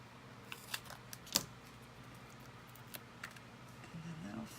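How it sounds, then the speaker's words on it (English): Scissors cut a piece of card in half in a few quiet, close snips, with a faint voice briefly near the end. "I am just going to cut 1 in half for this."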